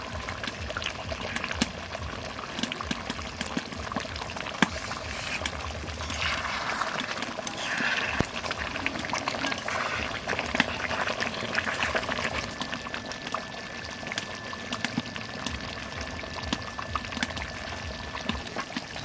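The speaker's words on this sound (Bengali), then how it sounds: "মাছের ঝোল হয়ে গেছে, আর দুনিয়ার পাতার গরম মশলা দিয়ে নামাই দেবো।" Fish curry bubbling and simmering in a pan, a steady wet bubbling and trickling texture that continues throughout at moderate level, with faint background noise and no talking.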